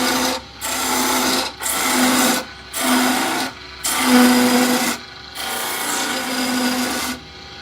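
A small bowl gouge cuts a thin-walled wooden bowl spinning on a lathe. Loud rasping passes of about a second each repeat several times, with a steady motor hum carrying through the short pauses between them. No one speaks.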